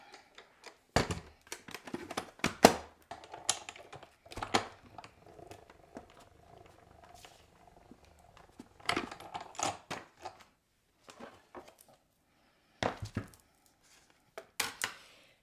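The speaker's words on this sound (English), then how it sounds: "run it through the embossing machine." Paper being run through a hand-cranked embossing machine for a card-making project, with scattered clicks, cranking clatter and rolling mechanical sounds in irregular bursts and pauses, close up.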